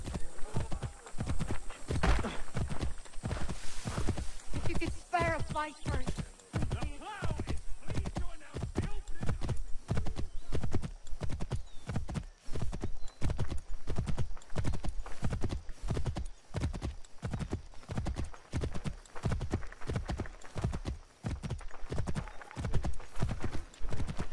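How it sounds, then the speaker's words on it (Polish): Horse hooves clip-clop at a steady gallop in Assassin's Creed III, a fast, even rhythm that runs the whole time, with a brief whinny early on. "weźmy może sobie konia. Będzie szybciej"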